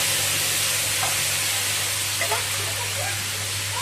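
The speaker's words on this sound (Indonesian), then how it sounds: "sekarang kita mulai untuk menumis bumbu terlebih dahulu" Spice paste for rawon sautés in a pan with a steady broadband sizzle and hiss, a constant low hum underneath and a few faint scrapes of stirring.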